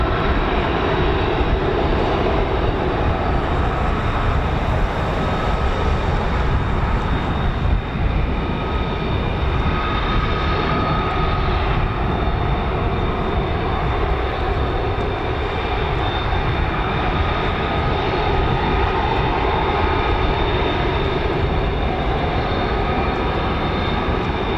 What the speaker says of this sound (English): World's most advanced fighter aircraft, the F-35A.